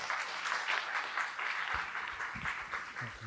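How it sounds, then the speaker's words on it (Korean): A seated audience at a lecture gives a steady round of applause, dense clapping with no let-up, while low voices murmur faintly underneath. "우리 귀한 강연해 주신 우리 선욱 회장님께 큰 박수 부탁드리겠습니다"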